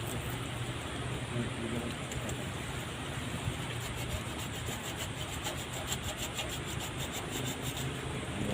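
Coffee tree branch being cut during pruning outdoors at a farmers' group plantation on Gunung Kamojang, a continuous rough rasping saw stroke sound, fairly loud and close, running steadily throughout with no voices.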